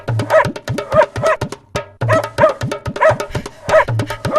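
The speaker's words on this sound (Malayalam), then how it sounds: "അതാരാ ഇങ്ങോട്ട് വരുന്നത്? കൂടെ ഒരു പട്ടിയും ഉണ്ടല്ലോ." A cartoon dog barks in quick repeated bursts, a steady run of sharp barks with a brief pause midway, loud and close.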